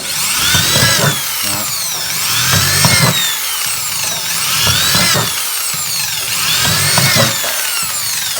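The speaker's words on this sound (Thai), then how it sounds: "ด้านบนเราท ำเจาะรูคู่นะครับ รูคู่คือ ช่องละสองรูครับผม" Power drill boring paired drainage holes through the rim of a metal basin plant pot, loud grinding whines in four repeated bursts with brief pauses between.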